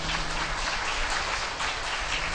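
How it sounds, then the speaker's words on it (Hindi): An audience claps at a Bhagwat Katha religious gathering to welcome the speaker, a steady, even wash of applause filling the whole moment. "और एक बार तालियों से पुनः"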